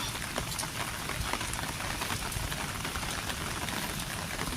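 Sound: rain

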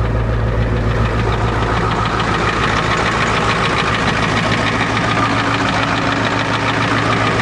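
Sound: old Ford truck engine starting and idling

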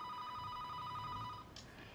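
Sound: telephone ringing

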